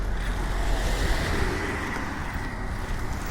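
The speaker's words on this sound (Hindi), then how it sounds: "ये ट्रैफिक जा रहा है।" Road traffic passes on a city road in Gwalior, a continuous close roar of vehicles with no voices.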